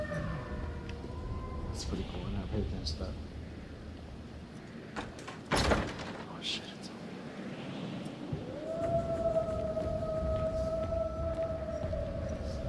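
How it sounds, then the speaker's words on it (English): Wolves howling in the video game Until Dawn, long rising and sustained tonal wails drifting in the distance, with someone briefly talking over the first part. "Dude, you can hear the wolves"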